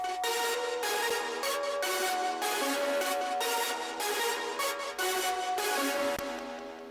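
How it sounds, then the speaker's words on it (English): A bright Serum synth pluck with Coldfire distortion and delay plays a rhythmic pattern of short, punchy repeated notes, loud and dense, with the last notes trailing off. "Then next up we have this pluck from Serum."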